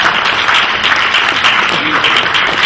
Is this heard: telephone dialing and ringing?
no